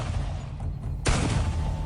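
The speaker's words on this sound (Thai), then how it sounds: "เสียงปืนดังขึ้นทีไร เสียงต่างๆก็เงียบลงสักพักก็ดังขึ้นอีก" A gunshot sound effect in a Thai audio drama, set in a village where characters fire guns while escaping: a single sharp loud blast bursts out abruptly after a low rumbling background.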